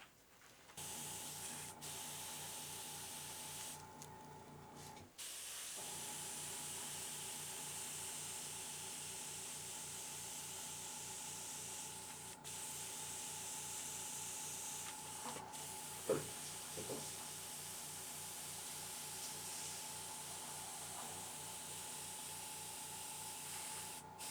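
An airbrush lightly mists paint onto the crown of a Predator P2 head, giving a continuous close hiss with a steady underlying hum and a couple of brief breaks and clicks.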